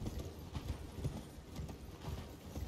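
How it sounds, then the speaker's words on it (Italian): Horse hooves clip-clop in steady rhythm in the video game Elden Ring, a continuous moderately loud galloping beat with no talk. "Cavallo, cavallo, cavallo!"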